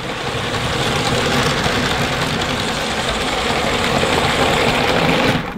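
LEGO City 60336 freight train motoring steadily around its track, a continuous buzzing motor hum with rattling wheels, close and fairly loud with no gaps.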